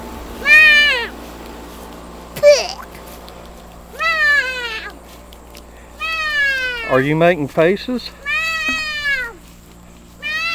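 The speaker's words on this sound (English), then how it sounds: "There's a cat, yeah." A cat meows repeatedly indoors, several clear drawn-out calls spaced a second or two apart, close and fairly loud, with a person speaking softly between them.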